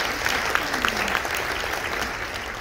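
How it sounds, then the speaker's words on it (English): A large audience at an Obesity Medicine Association inauguration claps for the staff with steady, dense applause and a few sharper claps. Murmurs from the crowd run underneath. "So maybe another round of applause for our amazing OMA staff."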